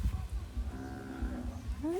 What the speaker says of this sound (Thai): มีวัวด้วย